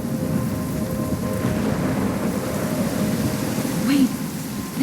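Thunderstorm in the video game Life Is Strange Remastered: a constant roar of rain and wind with low rumbling thunder, fairly loud and steady, with a brief rising tone near the end.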